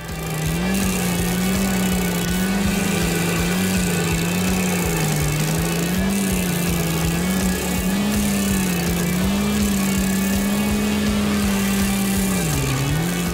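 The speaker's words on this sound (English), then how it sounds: "Will a stump grinder be able to handle it?" A stump grinder chews into a large maple tree stump, its engine droning loud and continuous with a wavering pitch that dips briefly under load near the end.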